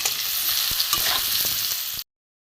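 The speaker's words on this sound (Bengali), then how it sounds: "একটু ভালো করে কষে নেব" Spice masala with turmeric, coriander powder and ginger sautéing in a pan, a dense, loud, continuous sizzle with a few soft stirring knocks, cut off abruptly after about two seconds.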